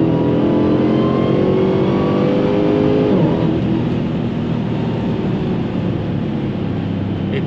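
A Dodge Challenger Hellcat Redeye spins its wheels under hard acceleration at night, a loud, sustained engine roar with rising then falling pitch as the tires break loose, close and continuous without talk.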